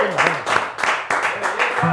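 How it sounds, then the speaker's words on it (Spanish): Audience applause on a talk show set, clapping running continuously while voices speak over it. "aplauso para la gente"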